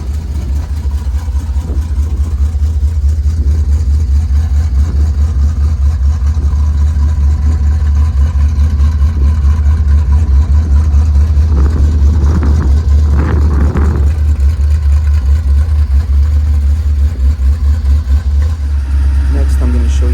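A 1968 Chevy Impala V8 idles steadily after a cold start, a low, even rumble close by with a brief rise in revs midway, and faint voices in the background.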